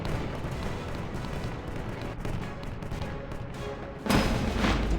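Nebelwerfer rocket artillery barrage from World War II, a dense continuous roar of firing that swells suddenly louder near the end, loud and close.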